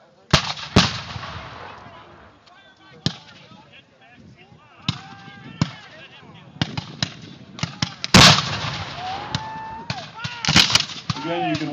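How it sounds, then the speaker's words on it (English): Civil War reenactment battle with artillery cannons and gunfire: several sharp, loud blasts spread across the scene, some near and some farther off, with crowd talk and noise between shots. "Again, you can watch the artillery."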